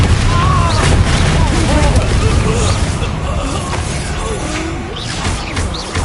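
Bombarda blasting spell bursting in Hogwarts Legacy, a loud boom and crashing debris amid a busy, steady roar of spell combat, with voices and game dialogue talking over the action.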